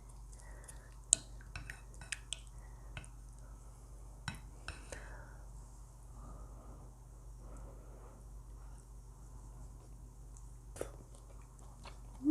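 Close, quiet chewing and biting of sliced rice cake from Korean tteokguk soup, with soft moist crunches and a few sharp clicks of cutlery or teeth spread over about twelve seconds.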